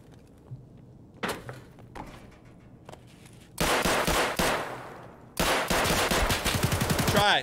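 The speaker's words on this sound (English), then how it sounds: "Hurry up before they're done shooting." Automatic gunfire in the shooter game Escape from Tarkov, beginning with a few scattered distant shots and followed by two loud, sustained bursts of rapid fire.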